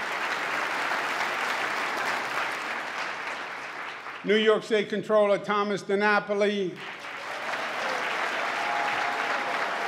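A large audience applauds steadily at the 2018 New York State of the State Address, the clapping rolling on throughout while an amplified announcer's voice speaks over it partway through.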